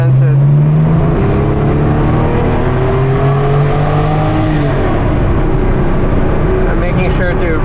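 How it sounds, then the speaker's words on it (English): A Ferrari engine runs loud and steady while driving, a constant close drone with slowly shifting pitch and a voice talking over it. "I'm making sure to run the motor in so that we can get some cleaning of the IAC, maybe decarbonization."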